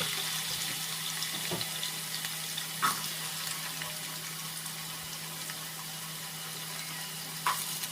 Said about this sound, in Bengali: আলুটা দিয়ে দিলাম আলুটা একটু ভাজা হবে